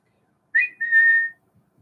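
A person whistles to call button quails, giving one clear, close whistled note that rises briefly and then holds steady for under a second, in otherwise near silence.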